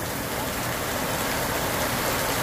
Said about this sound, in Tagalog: galit na galit yung ulan